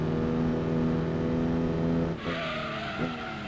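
A race car's engine in Gran Turismo 2 holds a high, strained rev, drops sharply as it shifts up, then climbs again with a faint tire squeal, loud and continuous.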